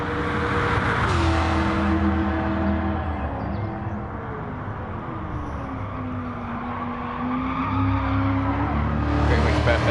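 A Shelby Cobra 427 in a racing video game slides through a turn with a steady engine drone and a long rising and falling tire squeal. Someone talks faintly underneath.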